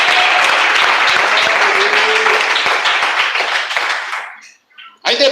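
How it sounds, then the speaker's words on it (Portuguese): Loud, dense applause from a church congregation, sustained clapping that fades out abruptly before a short burst resumes at the end. "Me bate palmas."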